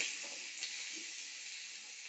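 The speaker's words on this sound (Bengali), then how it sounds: "আলুটা একটু নাড়াচাড়া করে ভাজা ভাজা করে নেব" Soft, continuous sizzle of potatoes frying in hot oil, with a few light stirring scrapes over the steady hiss.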